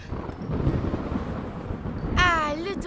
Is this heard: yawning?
no